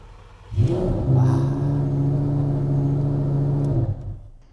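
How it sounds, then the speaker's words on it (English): A Lamborghini engine fires and holds a steady, deep rev for a few seconds before dropping off, loud and close with a smooth rumbling drone and no talking. "So why don't you rev her up?"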